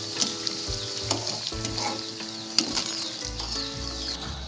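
Malpua fries in a pan with a constant sizzle, and scrapes and clicks from a stirring utensil break through it now and then. Heard up close, with no talking.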